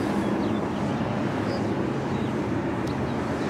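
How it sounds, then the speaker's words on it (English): A vintage diesel locomotive's steady low engine rumble drones on without a break at a railroad museum, a heavy idling machine heard up close with faint higher hiss above it. "I'm hearing an engine on a Reading line at a Reading Railroad Museum."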